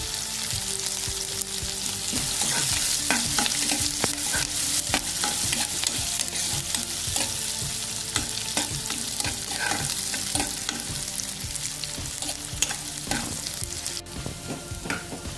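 Curry leaves fry in a pan alongside onions, green chillies and garlic, giving a steady, dense sizzle with frequent scraping stir strokes, close and continuous, with no voices.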